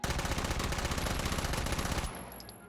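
Sustained full-auto gunfire from a weapon in the VR shooter Hot Dogs, Horseshoes & Hand Grenades, a loud rapid stream of shots for about two seconds that then cuts off, leaving a fading ring.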